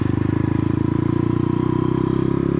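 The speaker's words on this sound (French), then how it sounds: "Donc je fais chauffer la moto" A motorcycle engine runs close up with a fast, even, pulsing beat and a low, steady drone, loud and alone with no talk.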